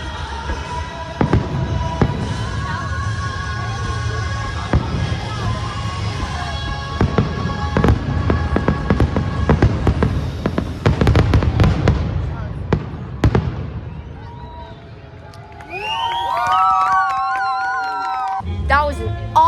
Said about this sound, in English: That was an awesome fireworks show and drone show here at Kings Island.